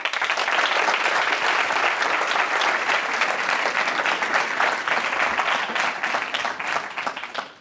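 Sustained applause from a university audience welcoming Sergio Ermotti, chairman of Swiss Re and former CEO of UBS, onto the stage; dense, steady clapping that fills the room and fades slightly at the end.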